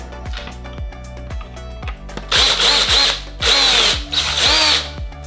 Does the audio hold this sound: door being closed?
no